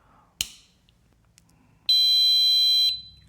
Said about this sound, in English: it beeps for one time, and the green LED will be on